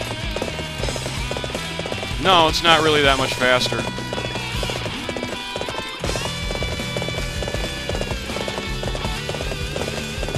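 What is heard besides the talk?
horse hooves galloping in a video game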